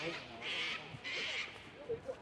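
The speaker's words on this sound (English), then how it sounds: "Listen at the birds, the cockatoos now, they are going off." Cockatoos call at golden hour in Sydney, two harsh screeches in quick succession, with someone talking over them.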